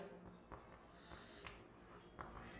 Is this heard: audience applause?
no